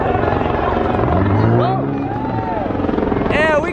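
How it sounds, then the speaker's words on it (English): A police helicopter flies overhead, its steady rotor thrum loud and close throughout, with people chattering and calling out nearby at a busy car meet. "we got the chopper coming in hot"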